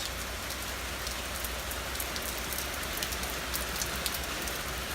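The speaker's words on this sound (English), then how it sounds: "Not always raining in Florida." Steady rain falls continuously in Florida, a dense even hiss with scattered drops pattering on a surface nearby.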